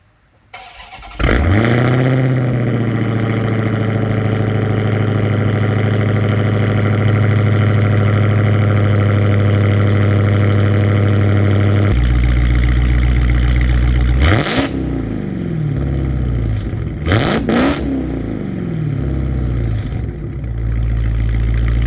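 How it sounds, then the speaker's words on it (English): A supercharged Dodge Charger SRT Hellcat V8 fires up and settles into a loud, throbbing idle, then rips through two sharp revs with supercharger whine before dropping back, close and alone. "the Hellcat with the supercharger whine is the best sounding performance car"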